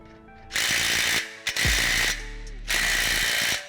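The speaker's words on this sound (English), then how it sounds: "we're gonna use the impact gun to try and get the wheel stud all the way through." Impact gun hammering a lug nut to pull a wheel stud through a car hub, two loud close rattling bursts of about a second each, separated by a deep low hum and a short sharp knock.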